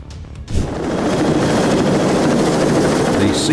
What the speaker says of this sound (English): These Sea Knights are equipped with flotation devices that deploy in the event of a crash.